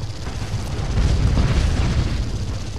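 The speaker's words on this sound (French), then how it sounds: "Fait un peu explosion de feu d'artifice les tirs quand même." Weapon shots in the PS4 Pro game Project Root burst like fireworks, a dense, continuous rumble of booms and pops at steady loudness with no talking.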